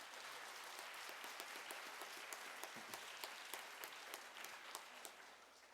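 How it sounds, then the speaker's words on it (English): An audience at a Martin Luther King Jr. celebration held by Port Huron Schools and the NAACP gives sustained applause, a dense wash of many hands with crisp individual claps standing out throughout, steady and fairly distant. "Let's give her a nice round of applause."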